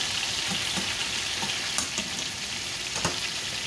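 Chicken pieces frying in a pan, a steady broadband sizzle with a few sharper pops and crackles and occasional stirring scrapes, close and continuous with no talk.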